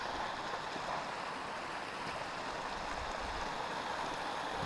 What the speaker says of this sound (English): Water on the trail.